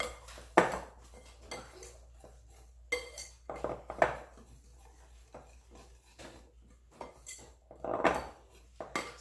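A spoon stirs and clinks against a bowl while salt, nutmeg and cinnamon are combined, giving irregular scraping strokes and sharp metallic taps close by, with quiet pauses between bursts.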